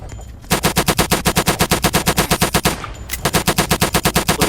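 Roblox War Age Tycoon gunfire: loud, rapid automatic bursts with evenly spaced shots, a long burst, a brief break, then another sustained stream of fire.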